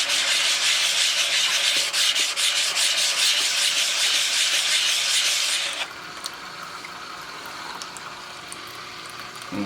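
A rock is polished by hand with steady rubbing strokes, a gritty grinding-and-sliding rasp close up that stops abruptly and leaves only a faint background hum.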